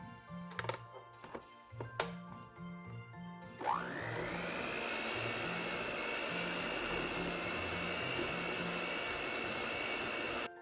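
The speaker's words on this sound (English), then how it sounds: "we're going to start by creaming this butter." An electric mixer creams butter for keto shortbread cookies. Clattering and handling noises come first, then the motor spins up and whirs steadily and fairly loudly to the end.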